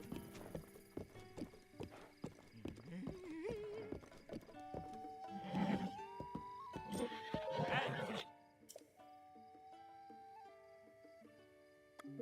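In Zelda: Breath of the Wild, a horse's hooves clip-clop in a brisk rhythmic series with a neigh, game music and chimes following as the hoofbeats stop, all fairly quiet.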